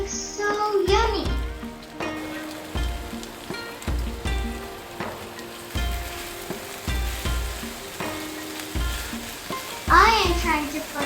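Onions sizzle on a grill beside ginger pork chops with a continuous close hiss. Periodic stirring knocks and scrapes cut through it, and a voice speaks briefly near the start and again at the end.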